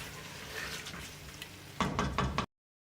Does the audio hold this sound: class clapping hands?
no